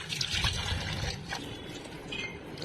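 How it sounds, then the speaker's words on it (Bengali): Minced chicken being rinsed under running water in a home kitchen, a steady close splashing and trickling wash that runs through the whole stretch without a pause. "তারপরেই মাংসর কিমাটাকে ধুয়ে নিচ্ছি"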